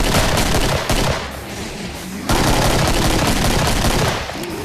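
Rapid gunfire in the video game Killing Floor fills the clip, dense bursts of automatic shots with a brief lull before loud firing resumes.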